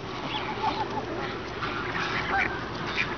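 Geese honking close by at a feeding spot, a few short calls scattered through a steady bed of flock noise with no talk.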